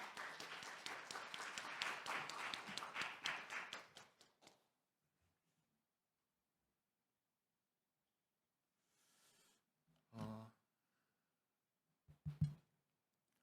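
Audience applause welcomes a speaker at a Korean compliance forum and awards ceremony, a burst of clapping for about four seconds that fades into near silence, followed by a few faint, isolated sounds.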